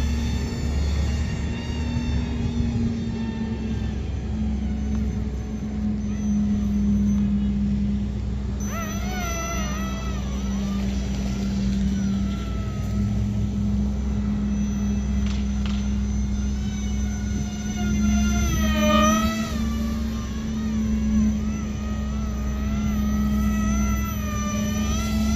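A BM F22 Raptor 4-channel RC plane drones steadily with a constant electric motor whine through flight and landing, the pitch shifting briefly as throttle drops and it lifts off again, with no talk.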